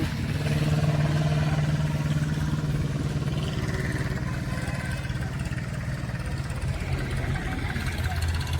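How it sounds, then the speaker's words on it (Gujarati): A tractor engine rumbles low and steady close by, a continuous chugging drone that neither fades nor rises much, during sugarcane loading. "જો ટ્રેક્ટર આવે છે"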